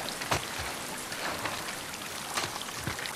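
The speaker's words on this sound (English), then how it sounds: "Wet and rainy." Steady rain falling in the video game The Last of Us Part II, a dense hiss of drops spattering on surfaces in a city setting, heard alone with a few louder splashes.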